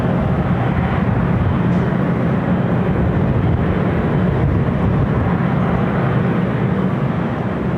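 A Delta Boeing 767 airliner at LAX makes a loud, continuous broadband jet roar that holds steady from start to finish, with no voices.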